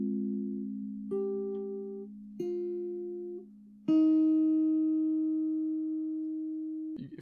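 Guitar picking pattern for a song played very slowly, a few sustained plucked notes ringing out one after another with long decays, clear and alone.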